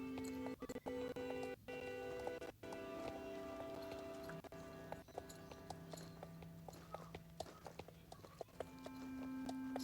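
A horse canters in a video game, steady rhythmic hoofbeats under looping game music, with sharp clicks scattered throughout.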